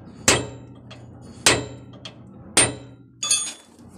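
A trailer axle wheel hub bearing is driven into place with a hammer, three sharp metallic strikes about a second apart, close and ringing, followed by a lighter clinking tap.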